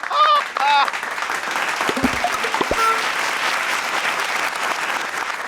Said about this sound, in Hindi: ताली बजाने में कोनो खर्चा नहीं हो रहा है तो बजाए जा रहे हो, बजाए जा रहे हो।